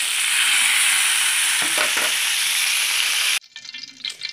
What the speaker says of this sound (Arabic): مش هقلبه الا لما يتحمر من جنب من جنبه يعني